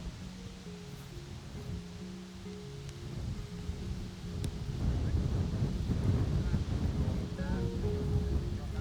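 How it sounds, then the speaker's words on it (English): Gusty, swirling wind buffets the microphone on an outdoor disc golf course during a national tournament round, a steady rumbling roar that grows stronger and more turbulent partway through, with no talk. "This time though we had a really swirly wind on the second shot"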